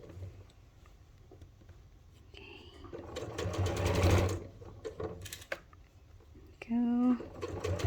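A sewing machine stitches fabric for a beginner bucket hat, running in a couple of short bursts with whirring and needle clatter close by, while a person talks quietly in between.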